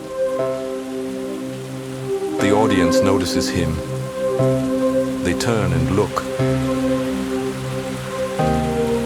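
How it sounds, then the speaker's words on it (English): Steady rain falls over orchestral music with sustained tones, while a voice speaks briefly in the middle. "And it still rains."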